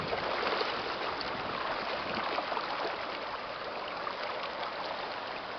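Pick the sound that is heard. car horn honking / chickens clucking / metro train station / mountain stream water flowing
mountain stream water flowing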